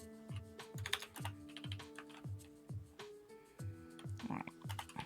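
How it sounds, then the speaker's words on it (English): Steady typing on a computer keyboard, with quick, regular key clicks that repeat in a rhythmic pattern throughout. The keys sound close and moderately loud, and there is no talking. "I'm not sure what Joe's typing."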